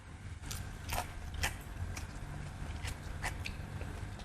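Crispy skin on thickly sliced roast pork crunches under chewing, with a few sharp, close crackles spaced through a quiet stretch with no talking.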